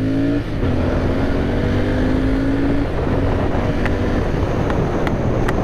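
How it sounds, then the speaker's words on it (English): A 2020 BS6 Royal Enfield Interceptor 650 twin-cylinder motorcycle accelerates, its exhaust note climbing steadily in pitch under strong wind buffeting, loud and continuous. "I still love the exhaust note of this bike"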